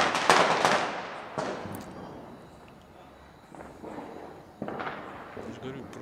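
Firecrackers and fireworks go off at a family Diwali celebration in India: a loud crackling burst first, then several scattered sharp bangs, some nearer and some more distant, with voices in the background.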